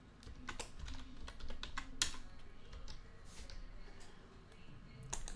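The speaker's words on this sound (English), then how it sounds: "So in my new account name, just type Sports75." A website name is typed on a computer keyboard in a quiet room, with a steady run of close, light key clicks and a few louder taps.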